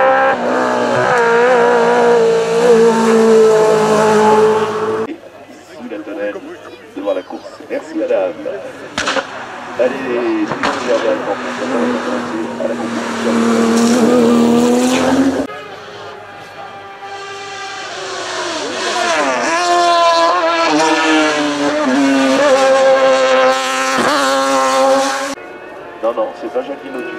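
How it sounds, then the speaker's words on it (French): A race car engine roars loud and close at the Mont-Dore hillclimb in 2019, revving high through gear changes in long sustained bursts, with brief drops between pulls. "piloter une M3 GTR ou la voiture de Nicolas Berger"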